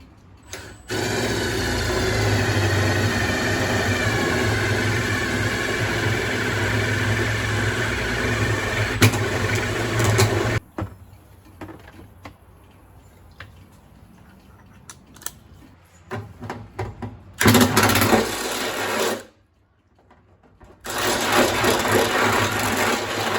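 Power drill enlarging holes in a car body: about ten seconds of steady, loud motor whine, followed by shorter intermittent bursts of drilling and handling noise.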